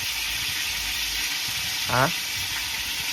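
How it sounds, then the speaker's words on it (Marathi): Ginger garlic paste frying in a kadhai for a paneer curry, a steady broadband sizzle throughout with a brief scraping stir near the middle. "आताशी कुठं अद्रक लसूण पेस्ट गेलाय कढई मध्ये"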